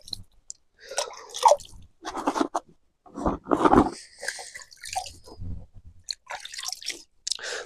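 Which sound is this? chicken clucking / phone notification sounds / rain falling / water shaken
water shaken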